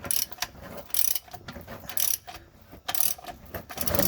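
A ratchet and socket work loose a tight drain plug on an old ZF5 transmission in a Bullnose truck, giving a close series of uneven metallic clicks and scrapes.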